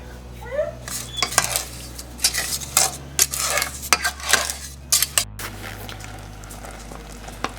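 Strawberries cooking in a pan with orange and lemon juice, with repeated clinks and scrapes of a utensil stirring against the pot over a soft bubbling sizzle.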